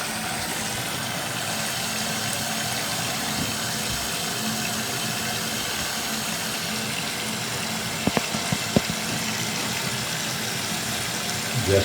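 A mini shower bidet sprayer attached to a faucet sprays water in a steady, even hiss that runs throughout, with a few small clicks near the end.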